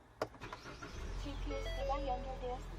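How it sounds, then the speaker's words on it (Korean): A gasoline Ford Explorer full-size four-wheel-drive SUV starts from inside the cabin, with a few clicks before the engine catches and settles into a quiet, steady idle, and a voice speaks briefly at the start. "바로 시동 한번 걸어보도록 할게요"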